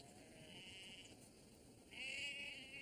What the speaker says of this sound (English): I can only hear some sheep.